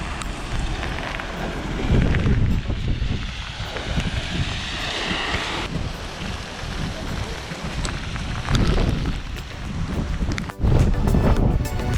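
Heavy rain pounding down with strong gusts of wind roaring over it at a lakeside parking lot in Iseo, dense and loud throughout, with occasional rattling bursts.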